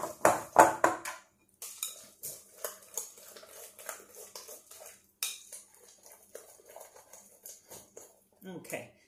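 A utensil clinks and scrapes against a bowl while vegan banana blueberry muffin batter with oat flour and sea moss is mixed, giving irregular close taps and scrapes alongside speech.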